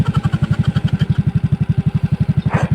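A trail motorcycle engine idles close by with a loud, even, rapid thumping beat throughout, joined by a brief rustle near the end.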